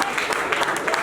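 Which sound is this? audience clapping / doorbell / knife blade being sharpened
audience clapping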